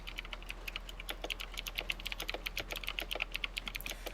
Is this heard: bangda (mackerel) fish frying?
no